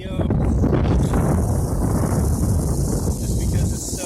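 Wind buffets the microphone outdoors during a drone flight, a heavy, constant low rumble with gusty fluctuations and a faint high whine.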